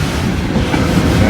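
A long Norfolk Southern freight train with a mid-train distributed power unit rolls past close by, a dense, continuous rumble of wheels and cars with faint rail clatter throughout.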